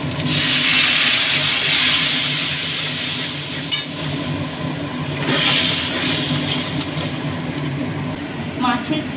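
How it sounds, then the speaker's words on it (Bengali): Spice paste of Kashmiri chilli powder, ginger paste, a little sugar and a splash of water sizzles and hisses steadily in a pan for a tilapia and cucumber curry, with brief bursts of louder spattering. "তো এখানে অলমোস্ট মশলাটা কষানো হচ্ছে"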